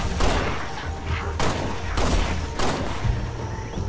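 Gunfire in the video game Halo: Spartan Strike, several sharp, booming bursts a second or so apart over a rumbling background of battle noise, loud and close.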